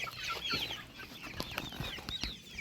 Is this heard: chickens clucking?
yes